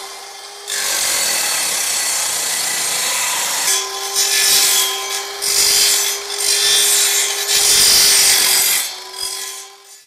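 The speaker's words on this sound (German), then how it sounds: "schneiden wir uns jetzt noch so einen Ständer" A wooden stake for a lacewing box stand is cut up close, in steady sawing strokes with a rasping scrape and a sustained whining tone, briefly pausing before resuming.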